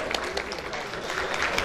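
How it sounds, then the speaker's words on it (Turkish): Dense applause from an audience, a steady wash of many hands clapping at moderate volume with no pauses. "Kendilerine bir alkış ve başarılar dileyelim."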